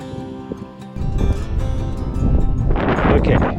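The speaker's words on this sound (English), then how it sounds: "It's a little bit windy up here on top." Wind buffets the microphone on a high summit in a loud, low rumbling roar that starts abruptly and keeps gusting, swelling stronger toward the end.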